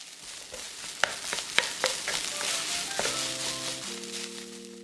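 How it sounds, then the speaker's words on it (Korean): Rice stir-fried in a pan with kimchi juice over low heat, a quiet steady sizzle with several sharp spatula taps, then sustained electronic tones take over toward the end. "밥이 뻑뻑해서 김치국물 2스푼 넣고 볶아줬다."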